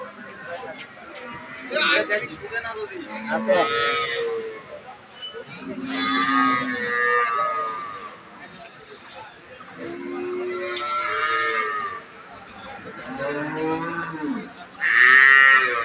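A Holstein Friesian dairy cow with a heifer calf at the Ambari village cattle market moos repeatedly, loud and near, while people talk throughout.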